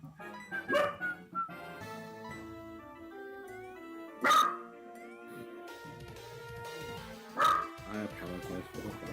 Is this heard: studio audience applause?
no